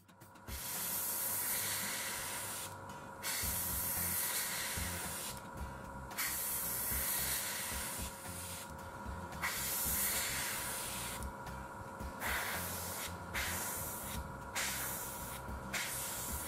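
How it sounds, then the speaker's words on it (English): An airbrush sprays Tamiya X-19 smoke paint onto a 1/48 scale Ju-87B-1 Stuka model aircraft, a steady close hiss running almost continuously with a few brief breaks between bursts. "So to deepen the smoke streaks, I now add Tamiya's X19 smoke."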